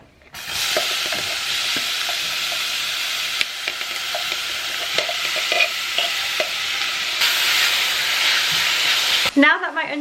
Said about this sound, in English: Now that my onions are frying away